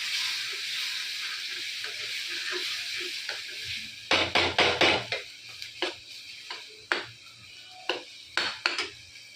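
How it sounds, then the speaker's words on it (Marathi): An eggplant and egg mixture sizzles steadily in a pan for anda bharit, with a hissing fry throughout and a series of close metallic spatula scrapes and clinks against the pan. "आता फ्राय होत आहे."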